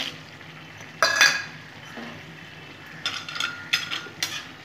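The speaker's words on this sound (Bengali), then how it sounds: "বড়িগুলো দিয়ে দেবো" Dried lentil dumplings drop into a pan during cooking of a Bengali shukto, giving a few sharp clattering bursts and scraping stirs against a low steady background.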